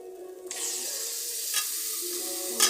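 Chicken pieces dropped into hot spiced masala for a chicken curry, bursting into a loud, steady sizzle with a couple of brief stirring scrapes, close up and with no talking.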